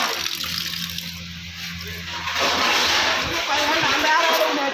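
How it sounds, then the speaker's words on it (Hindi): Water starts running from a tap that has been opened: a quiet background and a low hum give way midway to a loud, steady gushing rush. A voice speaks under the sound of the water. "पानी तो आ गया, यहाँ से नल खोलो थे किसी ने।"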